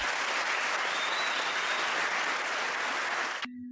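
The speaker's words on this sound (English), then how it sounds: "A big round of applause, please, for our Bronze Award winners." An audience at a Duke of Edinburgh Award ceremony applauds the Bronze Award winners with steady, dense clapping that fills the room and then cuts off abruptly near the end.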